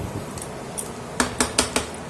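Metal tongs toss egg chow mein in a pan, sounding as a series of sharp clinks and scrapes, a few quiet taps and then four louder knocks near the end.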